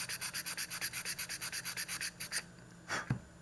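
Steady back-and-forth sanding strokes on model rocket fins, rhythmic and close, about fifteen passes before stopping, followed by a couple of light handling knocks.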